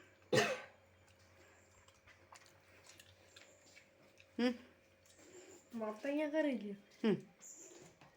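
A sharp cough at the start, then quiet with soft ticking, followed by further coughs and throaty vocal sounds.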